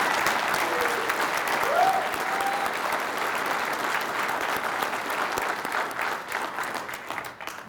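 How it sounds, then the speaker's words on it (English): An audience at a cadet class graduation ceremony gives sustained applause, a dense, even roar of many hands clapping that holds for several seconds and thins toward the end. "Please give these cadets a round of applause for a job well done."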